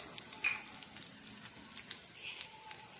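Cumin, dried red chillies and mustard seeds sizzle in hot oil, a faint, steady crackle with scattered small pops and light stirring.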